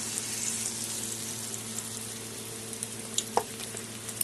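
Rice and pumpkin pakoda fry in hot oil with a quiet, continuous sizzle, broken by a light clink and a few small pops near the end.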